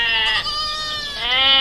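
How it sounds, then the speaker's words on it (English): A goat bleats loudly and close by, one wavering, nasal cry lasting well over a second with no other sounds around it. "Goat."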